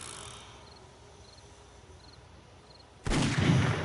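A single gunshot from a PS4 video game lands as a sudden loud, broadband blast near the end, after several seconds of quiet ambient background with faint insect-like chirps.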